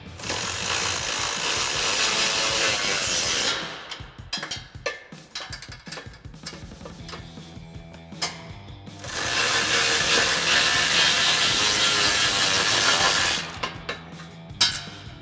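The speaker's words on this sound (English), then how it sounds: "grab our 10 millimeter wrench and our 10 millimeter socket. Tighten down our 2 pinch weld bolts." A 10 millimeter socket wrench ratchets pinch weld bolts tight while installing Barricade TCX drop side step bars on a Jeep Gladiator JT, with long runs of rapid clicking separated by short metallic fiddling and knocks.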